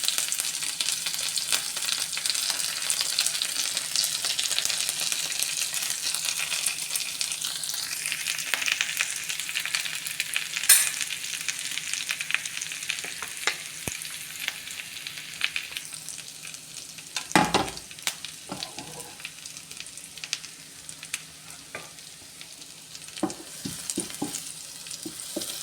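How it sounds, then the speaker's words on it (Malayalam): Shallots, crushed garlic and curry leaves frying in hot coconut oil for an egg peas masala: a continuous close sizzle and crackle, with a few sharp clinks near the middle and toward the end. "വെളിച്ചെണ്ണ നല്ലോണം ചൂടായി കഴിഞ്ഞാൽ അതിലേക്ക് ആവശ്യമായ ചുവന്നുള്ളി വെളുത്തുള്ളി ചതച്ചത്, കറിവേപ്പില ഇട്ട് കൊടുക്കുക"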